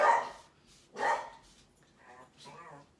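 Two loud dog barks ring out close by, each a sharp burst, followed by softer whining yips from the dogs.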